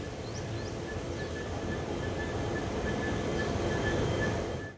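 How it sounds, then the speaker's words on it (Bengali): A passenger train pulls out of Alipurduar Junction on the run to Bamanhat, heard from on board as a steady, loud rumble of wheels on rails with a faint high squeal running through it. "তো আমাদের ট্রেনটি এখন বর্তমানে ছেড়ে দেওয়া হলো।"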